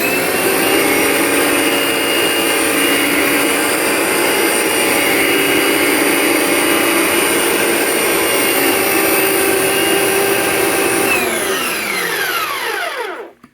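A NovaDry/Capture carpet cleaning machine runs while dispensing, making a loud, steady motor whine and whir close by. Near the end the sound spins down and stops. No one speaks.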